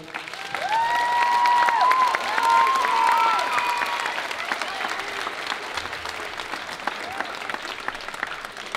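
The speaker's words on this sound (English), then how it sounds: "let's give our seniors a round of applause" An audience at a high school band spring concert gives sustained applause in a hall, loud at first and then tapering, with a few voices and whistles rising above the clapping.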